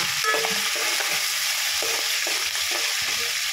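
Ginger garlic paste fries in hot oil for Telangana-style tomato rice, a dense continuous sizzle with intermittent scraping stirs, close and fairly loud, no one speaking.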